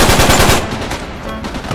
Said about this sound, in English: the key here is just to keep firing at them